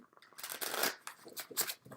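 Rubbery tarot cards shuffled close up, a run of soft riffling bursts and flicks with brief pauses between them, no voices.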